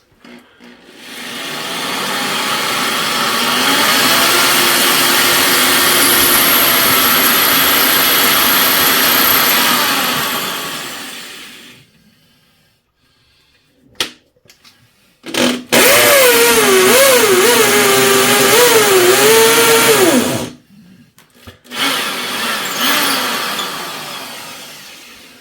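Hammer drill on hammer setting boring holes for a toilet installation: two long, loud, steady bursts of buzzing, hammering drilling, separated by a near-silent gap, then a shorter third burst.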